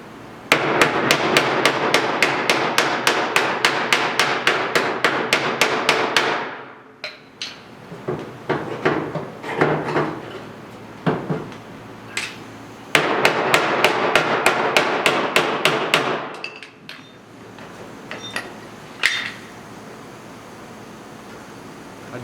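Hand hammering on roof finishing trim during restoration of a 1972 Triumph GT6: long runs of rapid, evenly spaced sharp metallic taps, loud and close, broken by a pause of scattered knocks before another fast burst.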